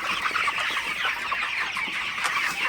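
A flock of about eight hundred broiler chickens on a farm, steady dense clucking and murmuring from many birds close by, continuous with no talk.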